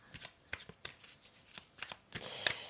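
Oracle cards being shuffled and handled on a table during a tarot-style reading, a series of crisp close flicks and riffles, irregular and fairly quiet, ending in a brief flurry.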